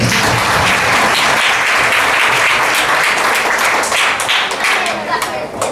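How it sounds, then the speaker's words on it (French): Wedding guests at a church ceremony break into loud, sustained applause right after the couple is declared husband and wife, a close, dense clatter of many hands with voices mixed in. "Applaudissez le Seigneur."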